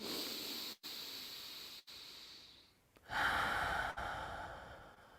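A seated person draws in a deep breath and lets it out: soft, airy inhale and exhale hisses, close and quiet, with brief pauses and one stronger, fuller breath near the end, no talking.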